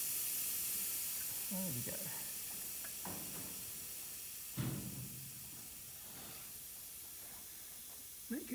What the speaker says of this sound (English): So I guess the best way to adjust it is while you're letting the air through the airbrush.